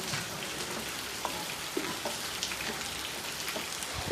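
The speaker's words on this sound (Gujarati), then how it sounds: "અમારી ત્યાં હજુ કન્ટિન્યુઅસલી વરસાદ ચાલુ ને ચાલુ જ છે." Steady continuous rainfall during monsoon weather, a dense even patter with occasional louder drips close by, no voices.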